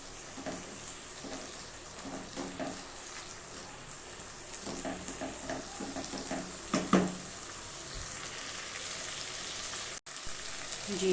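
Brain masala frying in a pan with ginger and garlic, a soft, steady sizzle under a quiet hiss, with a few light clinks and stirring sounds scattered throughout.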